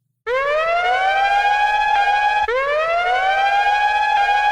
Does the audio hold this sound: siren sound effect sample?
yes